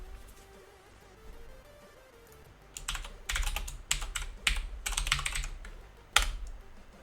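Keys clatter on a Commodore C64 computer keyboard in several quick bursts of typing, close and fairly loud, after a quieter start with no speech.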